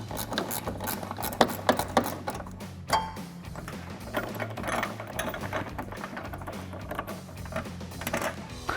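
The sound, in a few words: 10mm ratcheting wrench loosening a headlight bolt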